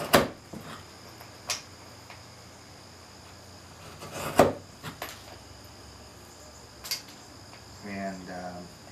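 Mallet blows driving a wooden wedge into a chair leg, several sharp isolated knocks spread out over steady cricket chirping, the loudest strike in the middle, with a brief voice at the end.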